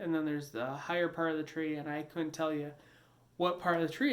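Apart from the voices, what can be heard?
No distinct noise like a dog, phone or traffic.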